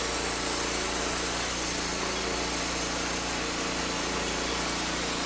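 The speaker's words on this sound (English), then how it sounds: "I'm sawing the logs by myself" A homemade bandsaw mill whines loudly and continuously as it cuts through a log, a dense, unbroken high-pitched saw noise over a low engine hum.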